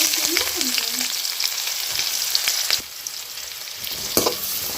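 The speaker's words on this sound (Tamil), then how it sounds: "வெங்காயத்தை நல்லா வதக்கிடுவோம் வெங்காயம் நல்லா வதங்கணும்" Onions frying in hot oil in a pan for chicken idiyappam biryani, a steady loud sizzle with scraping stir strokes throughout and a brief clatter near the end.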